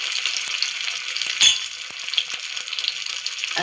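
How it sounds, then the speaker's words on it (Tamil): Dried fish fries in hot oil in a pan, giving a steady, close crackling sizzle throughout, with a few brief clinks and pops standing out over the continuous hiss. "இப்போ ஒவ்வொரு கருவாடாக போட்டு ஃப்ரை பண்ணிக்கலாம்."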